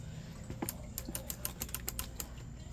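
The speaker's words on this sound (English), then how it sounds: "Air switch works though, you hear?" The air switch of a general drain unclogging machine gives a rapid series of small, sharp clicks, irregular and quick, heard close up over a faint background hum.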